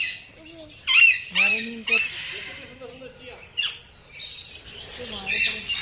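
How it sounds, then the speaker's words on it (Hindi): Budgerigars squawk and chirp in sharp, shrill bursts at Dehradun Zoo, several calls overlapping close by, with brief pauses between flurries. "बजरीगर।"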